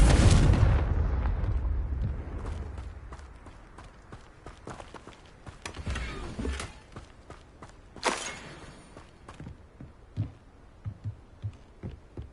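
A sharp, loud blasting-spell explosion from the Confringo curse in Hogwarts Legacy opens abruptly and then decays, followed by scattered softer impacts and thuds.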